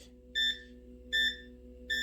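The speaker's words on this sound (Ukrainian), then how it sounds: "Подвійне пік-пік було." Three short electronic beeps, each a quick double pip from an automatic egg incubator's controller, sound at even intervals over a faint steady electrical hum.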